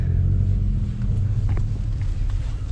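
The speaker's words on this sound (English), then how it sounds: "That is a Ferrari F40 LM." Ferrari F40 LM sports car engine giving a deep, steady low rumble, close and loud for a few seconds, idling with slight fluctuations.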